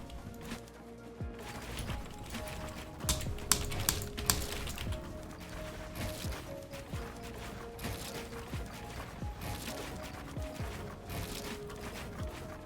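Keyboard and mouse clicks during a gaming session, a dense, irregular clatter of keystrokes and clicks running steadily throughout, layered over game sounds.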